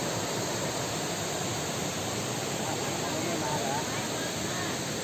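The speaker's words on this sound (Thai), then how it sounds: "ตอนนี้ผมอยู่ที่น้ำตก ตาดกวางสีนะครับ" Tad Kuang Si waterfall in Laos gives off a loud, constant broadband rush of falling water, steady throughout with no distinct voices standing out.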